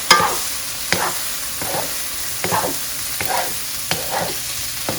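Turnip cakes sizzle and fry in a hot pan, a steady crackling hiss broken by repeated scraping stirs and tosses at a regular pace, close and fairly loud with no talking.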